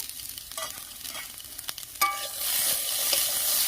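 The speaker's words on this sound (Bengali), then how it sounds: "ছোলাগুলো একটু ভাজা ভাজা করে নেব।" Soaked chickpeas fry with potatoes in oil: scattered stirring clicks and spatula scrapes over a light crackle at first, then a sudden, fuller steady sizzle takes over.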